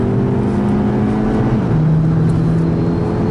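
A VW Polo GTI engine pulls under throttle on the Nürburgring Nordschleife, a loud, steady in-car drone with engine tones rising as power is fed in, no talk over it.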